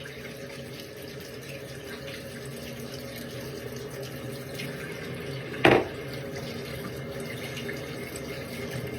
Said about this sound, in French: je suis en train de frotter ça sous l'eau